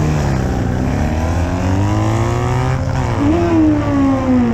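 Drag-racing motorcycles at Sonoma Raceway, a loud, continuous engine roar that climbs steadily in pitch through the gears, with a second machine's whine rising over it near the end, heard close and alone.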